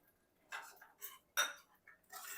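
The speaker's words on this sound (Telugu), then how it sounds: "నీళ్ళు వేసుకుని ఒకసారి కలిపేసుకుందాం ఇట్లా" A spoon stirs tomato dal in a metal pot, giving a few quiet, separate scraping clinks against the pot sides in an uneven rhythm, with no speech.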